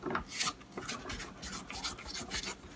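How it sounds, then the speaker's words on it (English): A spatula scrapes down a stand mixer bowl of peanut butter cookie dough in a quick series of close, rhythmic rubbing strokes, with no talking. "I'm gonna stop the machine. I'm gonna give it a quick scrape down."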